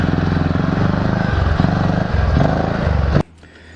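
A 4-stroke dirt bike engine roars loud and close while the rider practices wheelies with a wheelie bar, holding a throbbing, slightly rising drone for about three seconds before cutting off abruptly to near quiet.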